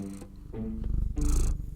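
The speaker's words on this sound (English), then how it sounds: "We can get some purring ASMR." A cat purrs right up close in a low, rumbling flutter that swells louder in pulses, with no talking.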